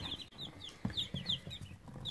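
Newly hatched baby chicks peep in a brooder, a run of high, thin chirps repeating in quick overlapping bursts, fairly quiet and close, with faint soft rustling beneath.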